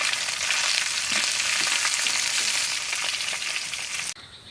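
A fresh pond fish fries in hot oil in a village kitchen, giving a steady, loud, close sizzle with soft popping that cuts off sharply near the end.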